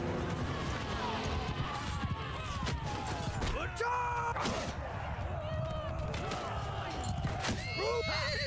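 A horse whinnies sharply amid busy Mount & Blade II: Bannerlord battle sounds, with hoofbeats, crashes and clatter layered throughout at a steady loud level.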